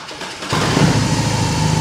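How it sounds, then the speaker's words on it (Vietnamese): A BMW R18 First Edition motorcycle's engine cranks and fires after a quiet moment, then settles straight into a loud, steady, deep idle close by. "để coi thử coi nổ máy lên"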